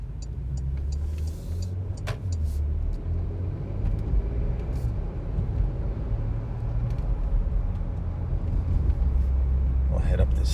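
Porsche Macan S (2021) driving uphill over bumpy road, heard from inside the cabin as a steady low engine and road rumble with occasional knocks from the bumps.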